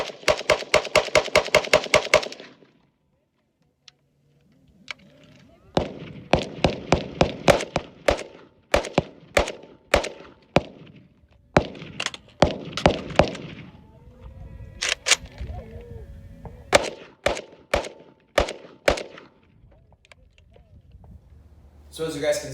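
A Riley Defense RAK47 rifle fires at an outdoor range in sharp, loud bursts, fast rapid-fire strings broken by short pauses and single shots.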